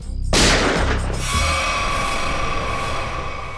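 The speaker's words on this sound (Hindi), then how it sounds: "गोली चली क्या?" Single loud gunshot with a sharp crack and a booming tail, followed by a sustained ringing dramatic music swell, with no talking.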